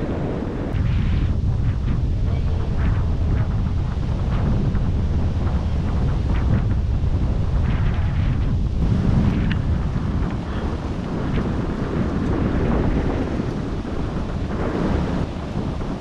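Strong wind roars steadily across the microphone at a campsite in Unisan, Quezon, for the whole stretch, a loud, continuous buffeting rush with gusts rising and falling, no voices.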